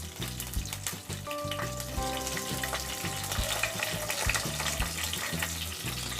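Green chillies, curry leaves and whole spices fry steadily in hot oil, a continuous close sizzle with small crackles and pops running through the whole stretch, no voices.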